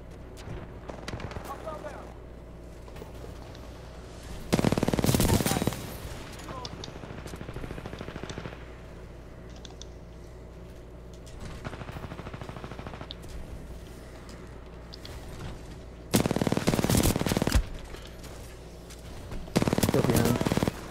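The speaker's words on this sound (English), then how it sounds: "He's using the rifle. That was a really good semi-automatic." Semi-automatic rifle fire in Titanfall 2 on the DryDock map during an Attrition match, heard as three loud bursts of shots spaced several seconds apart, with quieter game noise filling the gaps between them.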